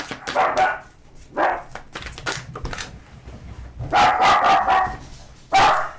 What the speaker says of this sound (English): And sorry about the barking, you guys.